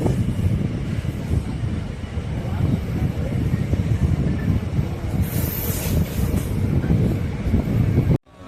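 A passenger train runs from Sengottai to Tirunelveli: a steady, loud rumble of wheels on track with wind buffeting throughout, ending abruptly near the close.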